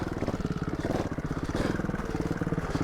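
A Beta four-stroke trials motorcycle engine runs close and loud, its rapid, steady throbbing firing pulses holding through a short stretch of riding under throttle.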